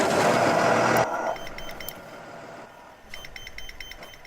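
A Thomas HDX2 New Jersey-spec school bus reverses with its backup alarm sounding: a quiet run of repeated electronic beeps over the steady hum of the idling engine.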